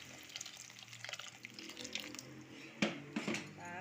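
Hot water poured into a pan of cooking spices, a short hissing splash with sizzling near the end, close and fairly quiet.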